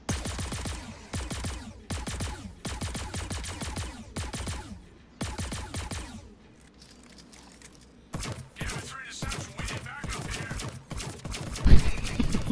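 In a Warlock space-chair run, video game gunfire comes in rapid, sharp bursts of repeated shots with short gaps between volleys, loud and close, with a brief lull midway before the shooting resumes.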